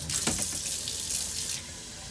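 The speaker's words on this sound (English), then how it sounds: "Oh, we have running water. See, the water goes through that way." Water runs steadily from a tap through the plumbing of a composting toilet setup in a converted school bus, a continuous close hiss and splash that eases slightly toward the end.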